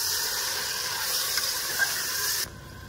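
Minced beef keema dropped into frying softened onions, a steady loud hissing sizzle held close for over two seconds, then abruptly falling quieter.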